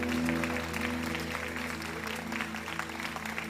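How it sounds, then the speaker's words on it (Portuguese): Applause from a congregation at a prophetic church conference, a dense steady patter of many hands clapping throughout, with a sustained tonal hum or music underneath. "Uma salva de palmas a Ele"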